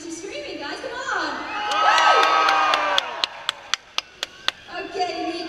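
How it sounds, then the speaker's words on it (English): A crowd of fans at a Formula One meet and greet screams and cheers loudly, then a series of sharp, evenly spaced claps rings out before the whooping picks up again. "I think we should make another round applause and do some screaming, guys."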